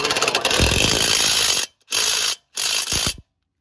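A ratchet loosens a bolt on a 2017 Chevy Tahoe shock absorber. It gives three loud, close bursts of rapid metallic clicking, separated by short silent pauses.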